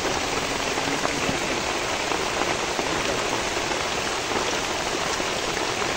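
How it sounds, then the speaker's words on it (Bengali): Dense, continuous rainfall pattering on surfaces, loud and unbroken throughout, with no voices. "বৃষ্টি দেখেন শুধু"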